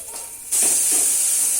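Spice masala with chili powder, turmeric and coriander powder hits a hot pan for chicken curry, starting a sudden loud, steady hiss and sizzle that carries on without a break.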